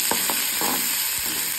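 Dry red chillies, raw mango, green chillies and curry leaves fry in hot oil, giving a steady hiss with several short scraping stirs of a spoon in the pan.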